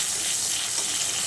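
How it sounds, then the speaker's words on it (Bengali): Cumin, fenugreek seeds and chilies dropped into hot oil, a loud, steady, bright sizzle and hiss filling the whole brief moment with no voice. "এখন এগুলো এই গরম তেলের মধ্যে দিয়ে দিচ্ছি।"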